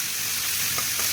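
Marinated chicken pieces fry in a pan with a dense, continuous sizzle, close and fairly loud, with no voices.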